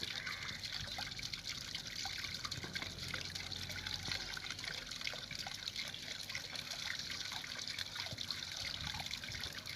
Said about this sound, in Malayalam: ബക്കറ്റിൽ വെള്ളം ഒരു പരിധി വരെ നിറഞ്ഞു കഴിഞ്ഞാൽ അത് നേരെ ഔട്ടായി പോണ്ടിലേക്ക് പോകും, ഡ്രെയിനായിട്ട്.